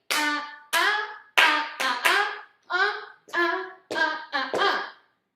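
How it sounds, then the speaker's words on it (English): Hands clap out a swing dance rhythm in a Lindy Hop lesson, landing about ten sharp, ringing claps in a syncopated pattern with uneven gaps. "we're gonna clap it, and then immediately dance it"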